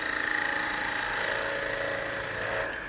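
A skew chisel cuts into a wooden cross spinning on a woodturning lathe, giving a steady loud whine and hum with a sustained scraping tone throughout.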